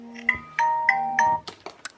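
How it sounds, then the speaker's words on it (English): A phone alarm sounds nearby: a bright repeating chime pattern of four quick electronic tones, followed by a few soft clicks and rustles, with no talking. "that was my alarm that just went off"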